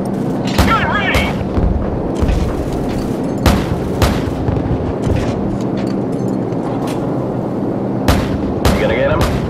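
Heavy gunship gunfire in the video game Call of Duty 4 booms in repeated sharp blasts over a constant low rumble of engine drone, with shouted voices mixed in among the shots.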